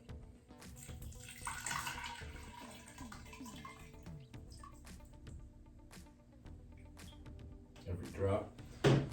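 Water pours from a one-foot section of schedule 40 pipe into a vase, a soft splashing trickle up close, with clinks and bumps and a louder gurgle near the end.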